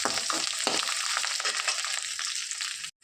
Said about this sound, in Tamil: நல்லா இதெல்லாம் வதக்கி எடுத்துக்கணும்